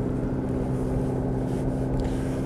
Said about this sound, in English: Engine's lovely. Starts on the button.